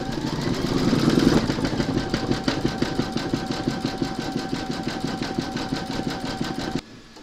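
Brother embroidery machine stitching a large whimsical Santa design, a fast steady mechanical chatter of needle strokes with a constant motor whine, close and alone, stopping abruptly near the end.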